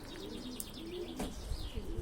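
Pigeons cooing close by in a loft, soft repeated rolling coos with a few chirps and faint rustling, no talk.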